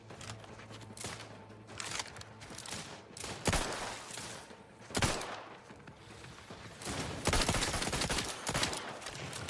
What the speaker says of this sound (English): he does have rapid fire